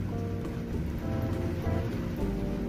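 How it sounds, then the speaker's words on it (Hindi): Heavy rain pours over fields, a steady, dense wash of hiss and patter with no pauses, moderately loud and continuous throughout. "यहाँ पे खूब बारिश हो रही है।"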